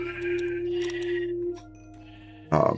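A video game sheep bleats in a long wavering call, then a second short harsh bleat follows after a pause, over a steady low electronic hum.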